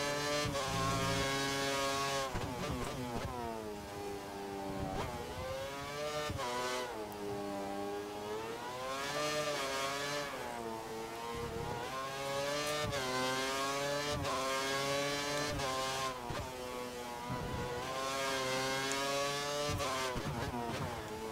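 A Formula 1 car's engine in the game F1 2013 at Abu Dhabi, screaming high through rapid upshifts and downshifts with sharp pitch climbs and drops, loud and continuous with no voices.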